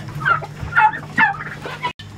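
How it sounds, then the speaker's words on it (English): A duck fights with a rooster, bursts of harsh squawking and clucking coming in three or four close, agitated flurries with brief scuffling between them. "The duck wants to fight."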